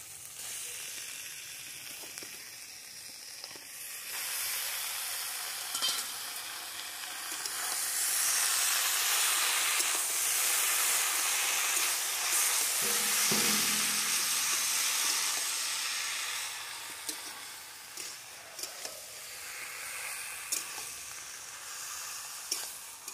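Taro greens frying in oil spiced with fried coriander and cumin, a loud steady hiss that surges in the middle as steam rises, with a few stirring scrapes and clinks near the end.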